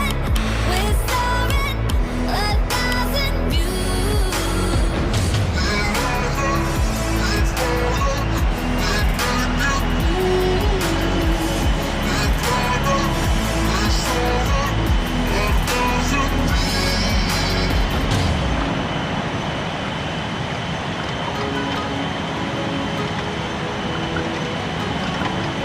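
Airbus A330-900 accelerating down the runway on its takeoff roll in Real Flight Simulator, a loud continuous engine roar with rumbling wheels, building steadily before dropping away sharply near the end.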